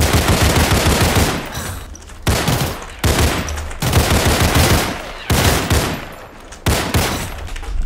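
AK rifle fire in the video game Criminality: loud, close bursts of rapid automatic shots in several long strings separated by short pauses.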